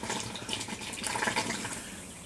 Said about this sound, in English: now I'll wait till I fill it, but it's bubbling inside there